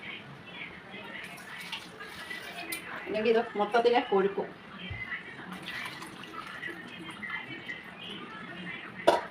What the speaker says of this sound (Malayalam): തിളപ്പിച്ച വെള്ളമാണ് ഞാൻ ഒഴിക്കുന്നത്, പച്ചവെള്ളമൊന്നുമല്ല കേട്ടോ